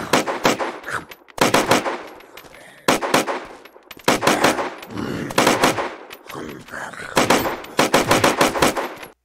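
Kalikov rifle fire in the game Unturned, several rapid bursts of loud, close automatic shots separated by short pauses.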